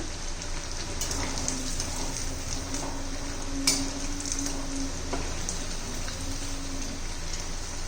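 Carrot poha cutlets fry in a pan of hot oil with a steady, rain-like sizzle and crackle, broken by a few faint clinks.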